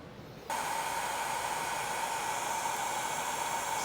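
A heat gun blasts a steady, loud hissing airflow that starts abruptly after a quiet moment and runs on unchanged to the end, close by and with no talking.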